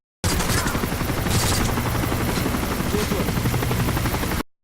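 Gunfire in Call of Duty: Modern Warfare 3 Special Ops mission Hostage Taker, a dense continuous rattle of shots over a heavy rotor-like drone, loud and steady throughout.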